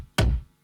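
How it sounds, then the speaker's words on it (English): A single heavy, distorted kick drum hit from a lo-fi track lands with a deep, thick thump and a short saturated tail, isolated and fading within a fraction of a second. "we have the kick drum. Sounds like this."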